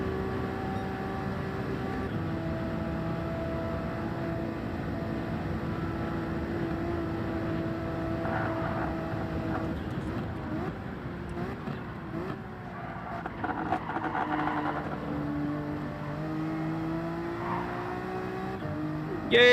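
A Honda NSX race car climbs uphill in Gran Turismo 7, its engine a steady sustained drone that shifts pitch as it revs and changes gear, with no talk over it.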